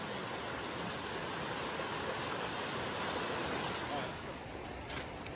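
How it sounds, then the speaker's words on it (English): Steady, loud rush of a rain-swollen stream on the Appalachian Trail, a dense continuous roar of flowing water with no breaks, close by. "the 24 hours of rain has deeply increased the flow of these streams"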